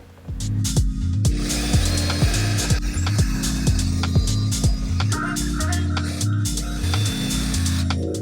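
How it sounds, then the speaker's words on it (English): A long drill bit bores a pilot hole through a workshop's exterior wall: a loud, steady grinding drone broken by a regular series of low thumps and ratcheting knocks, with no talk. "I'm gonna start by drilling a pilot hole using my long drill bit all the way through the exterior"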